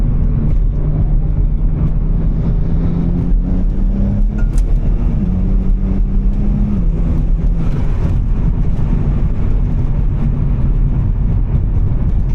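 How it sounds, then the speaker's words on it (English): A BMW 135i engine drones steadily and loudly, its pitch rising and falling as the turbo spools up, with road noise rumbling underneath. "I hear the turbo spool."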